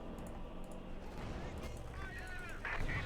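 Artillery bombardment from Company of Heroes 2, a steady rumble of shelling and distant gunfire under a continuous commentator voice, with a louder burst near the end.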